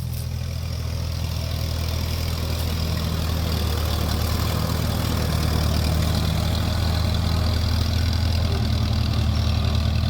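A WD tractor engine idles and runs steadily nearby, a continuous low diesel chug with a constant throb throughout, no voices.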